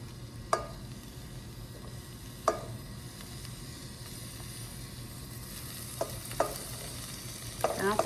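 Onions fry with Hatch and poblano peppers in a pan, a soft continuous sizzle broken by a handful of scattered utensil scrapes and taps, nearby but fairly quiet, without speech.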